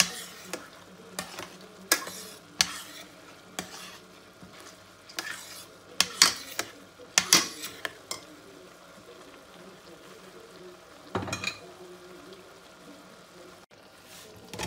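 Pumpkin and other risotto ingredients sautéing in a pan, with intermittent stirring scrapes and clatter of a utensil against the pan over a low sizzle, fairly close and with no talking.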